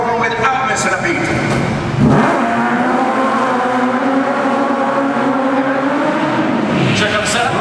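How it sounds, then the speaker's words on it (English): A stunt show hero car drives in reverse behind the set, its engine droning and revving steadily throughout, with a brief swell near the two-second mark. Voices can be heard over the motor. "what you're going to see up there is our hero car. As you can see, driving in reverse behind the set"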